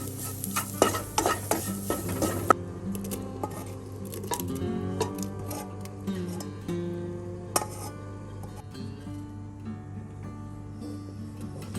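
Mashed ripe banana stirred into hot pradhaman payasam in a pot, repeated scraping and clinking stirring strokes with a soft bubbling sizzle underneath, close and steady.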